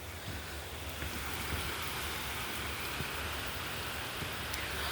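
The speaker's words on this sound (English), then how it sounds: "Just started raining really hard." Heavy rain pours down in a steady, dense hiss with a low rumble beneath, constant and enveloping with no pauses.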